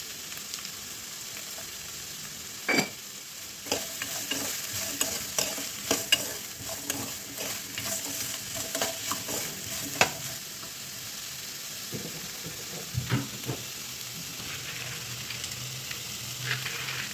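Sliced radish with salt being stirred in a pan, a soft sizzle running throughout with scattered scraping and clacking strokes of the spoon, close and moderately loud.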